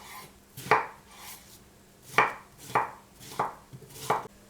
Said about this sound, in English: use 150 grams of raw beetroot, peel it, cut it into chunks